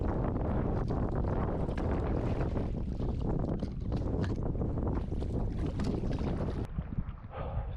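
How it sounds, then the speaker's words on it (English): Strong wind channelling through the Murchison River gorges in Western Australia buffets the microphone in a constant roaring rush, loud and unbroken, easing slightly near the end. "Getting windy. This wind just channels through these gorges."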